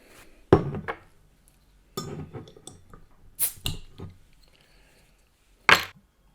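An IPA bottle from Browar Zakładowy is opened in a quiet room with a few sharp clinks and taps, then a bright hiss of escaping gas and one more clink near the end. The sounds are close and isolated, with no talking.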